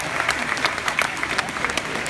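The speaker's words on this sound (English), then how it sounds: "give yourself a round of applause for that" A Comic Con Copenhagen convention audience claps in a dense, steady round of applause, close and sustained throughout with no pauses.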